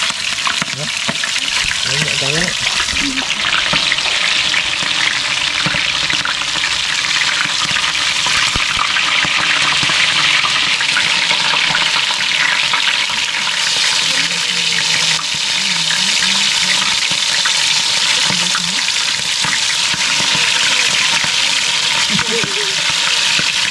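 Crispy pie sizzles as it fries in hot oil, a steady hissing crackle running throughout, with people talking intermittently over it.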